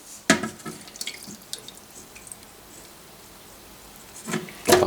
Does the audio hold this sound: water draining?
yes